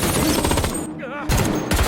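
Gunfire from a group of assassins in a film scene, loud dense bursts of rapid shots with a brief lull mid-way before firing resumes, close and heavy.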